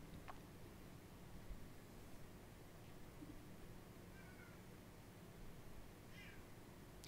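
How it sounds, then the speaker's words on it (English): A cat meows outside, faint and distant, with two brief cries separated by a few seconds over a steady, quiet background hiss. "I hear the sound of the cat making himself known outside."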